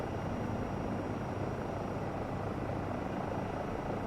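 Eurocopter EC135 helicopter in Microsoft Flight Simulator 2024, sitting on its skids as collective is raised, a steady, dense rotor and turbine roar with no voices.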